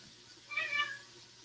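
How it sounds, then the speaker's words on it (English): A house cat lets out a single brief, fairly faint meow after its tail was stepped on, heard against a quiet room hum. "I think he stepped on my cat's tail."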